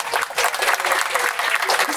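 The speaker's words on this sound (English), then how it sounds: "Round of applause." Brief burst of applause from a small audience at a municipal budget meeting, steady clapping lasting about two seconds, fairly close with no talk over it.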